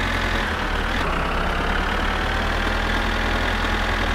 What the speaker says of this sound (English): let's go and park up the tractor